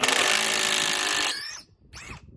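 A Ryobi impact driver hammers a screw into wood with a loud, rapid rattling buzz for over a second, then cuts off, followed by a brief second burst of the motor spinning up and down.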